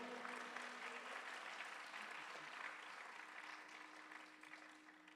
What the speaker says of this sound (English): Everyone give a round of applause for Ariana Bajor.